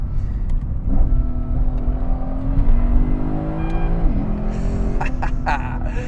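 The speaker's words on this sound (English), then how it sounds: "this car sounds a little bit better, especially from the exhaust side, because I have an exhaust on it" A 2010 Lexus IS-F engine growls steadily through a sporty aftermarket exhaust, its pitch rising and falling with throttle, loud and close with no talking.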